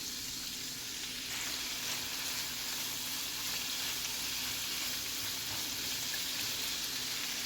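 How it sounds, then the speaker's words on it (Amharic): Beef fries with fresh garlic and ginger over high heat for a thyme roast, producing a loud continuous sizzle with a low steady hum beneath it. The sizzle runs throughout with no speech. "ፍሬሽ ነገር ስለሆነ እሱን ጨምሬ እንደዚህ እጠብሰዋለሁ።"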